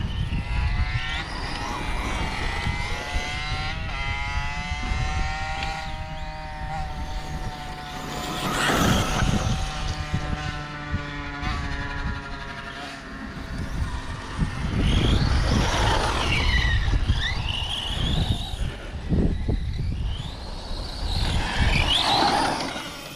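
Yikong DF7 RC car driving over a meadow, its electric motor whining and rising and falling in pitch as it speeds up and slows, with rustling and bumps across grass throughout.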